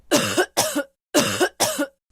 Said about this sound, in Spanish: Dicen que la compañera le anda tosiendo en la cara al comandante.